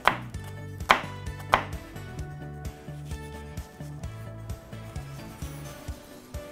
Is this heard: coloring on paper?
no